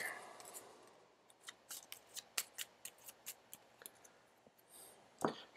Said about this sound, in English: Shuffle the miss back into the Tinkerer's deck.